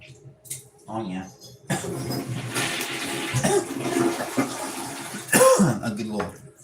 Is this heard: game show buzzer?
no